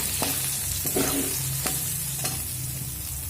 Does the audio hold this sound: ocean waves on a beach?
no